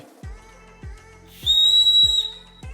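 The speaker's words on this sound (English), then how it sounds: "They've got a whistle on them." A shrill, steady whistle built into a sneaker blows for under a second, framed by a series of dull, regular thumps like the shoe being shaken or tapped.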